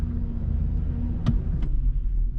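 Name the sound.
Chevrolet 2500 Suburban engine running while parking in driveway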